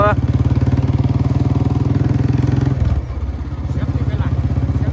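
A motorcycle engine runs close by with a steady, loud idle-like rhythmic chug that dips briefly near the three-second mark and then continues, with no talking over it.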